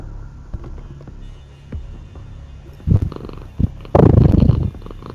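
A cat purring close to a microphone during a Rainbow Six Siege session, a low rumbling throb that swells in short bursts toward the end, loud and near, with no talking over it.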